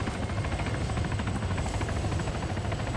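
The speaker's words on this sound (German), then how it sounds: "der Heli landet hier" Close, loud helicopter in the Arma 3 game landing nearby, a constant whirring rotor chop with no pause throughout.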